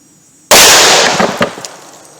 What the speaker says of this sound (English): let's try the 357 Magnum on wood and see what happens